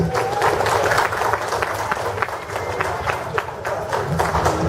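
Audience applause at an amateur hot sauce competition, a busy crowd of clapping hands with scattered sharper claps, fairly loud and continuous, dipping briefly midway.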